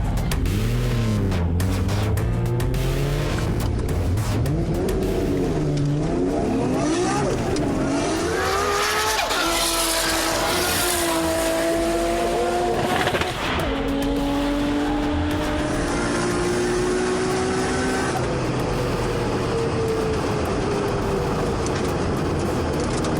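A Nissan R32 GT-R race car at the World Time Attack Challenge's Flying 500 revs hard through the gears, engine pitch climbing and dropping with shifts, loud and close from onboard, with a faint voice underneath.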